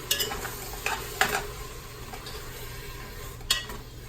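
Black-eyed peas, sausage and Rotel tomatoes with green chilies are stirred in a pot, with a soft simmering sizzle underneath and a few sharp clinks of the utensil against the pot rim.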